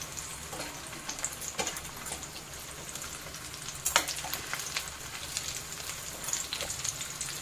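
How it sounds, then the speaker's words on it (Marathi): Chicken cheese kababs fry in oil on a tawa, a continuous close sizzle with crackling spits and occasional sharper pops throughout. "हे बघा आपले दोन्ही साइडचे चांगले तेलामध्ये फ्राय झालेले आहे।"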